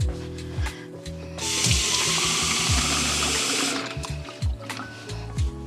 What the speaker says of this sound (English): If you put the water in your milk jug, you can kind of get a little bit more milk out of it.